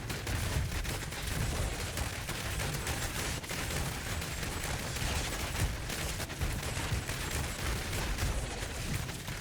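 Dense, continuous crackling barrage of rapid-fire blasts from missiles and gunfire in Diablo Immortal combat with a Demon Hunter build, loud and unbroken throughout with no speech.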